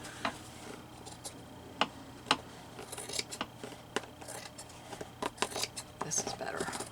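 Sewing scissors handled at close range, giving a series of sharp metallic clicks and snips at an irregular pace, with a soft, indistinct voice faintly in the background.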